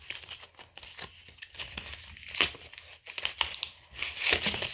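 Fake Pokemon cards being torn apart by hand: a close, uneven run of crinkling, crackling and sharp ripping bursts that grow louder toward the end, with no talking.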